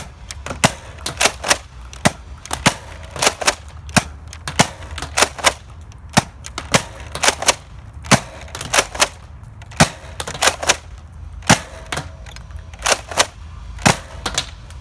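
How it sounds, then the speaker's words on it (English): A modified four-barrel Nerf Double Dealer shotgun firing foam darts: a long series of sharp, close, snappy pops, some single and staggered, others in quick tight clusters, over a soft mechanical background with no talking. "We're gonna just do some single staggered shots, and then we'll do some together shots, and then we'll do some slam fire."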